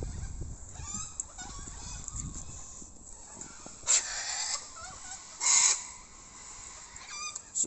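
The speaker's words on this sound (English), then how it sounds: "we've got quite a variety all the way up in the trees" Cockatoos, corellas, chickens and ducks gather up in trees, giving scattered squawks and calls at a distance, with two louder harsh screeches standing out midway and rustling in between.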